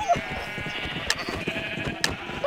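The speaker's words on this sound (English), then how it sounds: "You're killing the sheep." Sheep in the Minecraft video game bleat several times over steady game music and effects, with short sharp in-game clicks.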